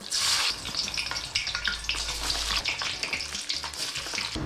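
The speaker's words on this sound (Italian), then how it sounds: "L'olio quando si frigge deve essere caldo, caldissimo, bollente, lava." Frozen french fries frying in very hot oil in a wok, a steady dense crackling sizzle that fills the whole stretch, close and fairly loud with no talk.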